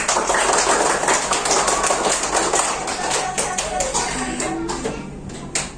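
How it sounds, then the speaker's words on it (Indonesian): A classroom group of students clapping hands together during a computational-thinking game, a dense burst of many overlapping claps that stays loud and steady throughout, then thins slightly toward the end. "Oke, tepuk tangan semuanya."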